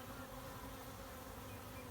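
Honey bees and larger drones hum at a hive, a dense, even buzz filling the air continuously, faint and steady with no voices.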